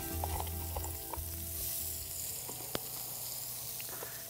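Onion and vegetables for ratatouille sizzle in a hot pan, a soft continuous hiss with faint crackles, one brief clink of a utensil, and a low hum beneath, with no talking.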